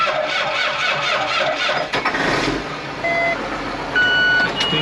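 A tractor engine with a low, weak battery turning over sluggishly, heard close by with a steady mechanical drone, a brief dip partway through, and a few high beeps and squeals over it.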